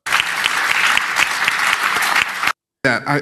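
Applause from an academic lecture audience, a dense, steady wash of many hands clapping for about two and a half seconds, then a brief silence before speech starts.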